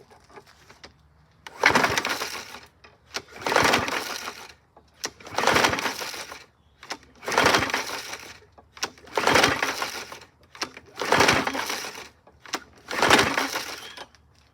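A 2018 Troy-Bilt TB110 lawn mower with an automatic choke is pull-started over and over, with about seven evenly spaced, loud cord-pull bursts and no engine catching between them.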